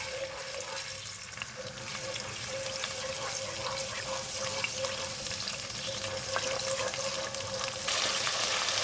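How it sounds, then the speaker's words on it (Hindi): Garlic-ginger paste fries in hot ghee with a steady, close crackling sizzle throughout, a faint constant hum running underneath. "लहसुन अदरक को मैंने थोड़ा सा फ्राई कर लिया है।"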